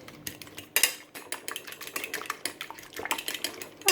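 Fork or whisk beating batter for fried breaded squid, quick irregular clinking taps against a bowl, close and fairly loud, with no talk.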